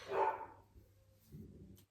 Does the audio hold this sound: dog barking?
yes